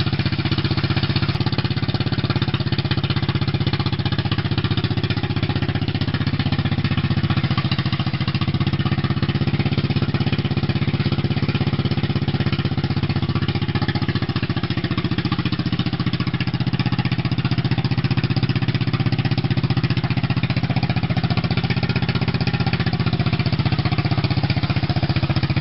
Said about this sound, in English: we just drove it from the backyard to the front yard